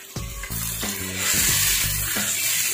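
Beef karahi meat browns in oil over a medium flame, giving a steady, dense sizzle close by. Several stirring scrapes and knocks rise through it.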